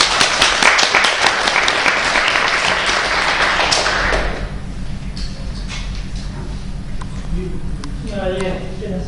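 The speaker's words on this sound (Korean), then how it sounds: "다들 박수." Lecture audience in Korea clapping as a speaker is introduced for a talk on brain and nervous system evolution; dense, close applause fills the first four seconds, then fades into low room hum with scattered voices and stray taps.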